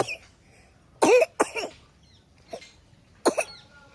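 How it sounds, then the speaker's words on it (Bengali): An elderly woman with a cold coughs in short bursts, two close together near the start and another later, with a faint cough-like sound between them, fairly near in a quiet room. "দুদিন কাশে আজকে আবার কাশছে"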